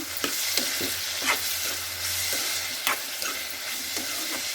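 Tomatoes and meal maker soy chunks cook in a pan with a steady close sizzle, while a spoon scrapes and stirs in irregular taps over a low background hum.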